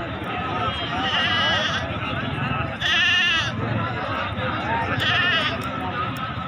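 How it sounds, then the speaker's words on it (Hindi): Goats bleat repeatedly at a busy livestock market, loud nasal cries rising over a constant crowd babble with people talking nearby. "हाँ मुख्तियार भाई कितने बकरे हैं?"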